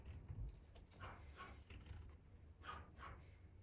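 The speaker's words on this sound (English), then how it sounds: "in case you can hear those teeny tiny little barks in the background, that is my doggy sister" A small Pomeranian dog yaps several times in the background, short faint barks spaced irregularly in an otherwise quiet room.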